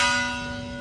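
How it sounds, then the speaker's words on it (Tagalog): Church bell at San Diego Parish in Silay City rings for 6 AM morning mass, a single loud, sustained metallic toll decaying slowly with a rich ringing overtone. "nag bell na ang simbahan kay may misa na rin siya"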